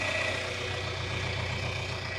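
A tractor engine runs while baling hay, a moderate, steady mechanical drone with a low rumbling hum that stays constant throughout, no voices over it.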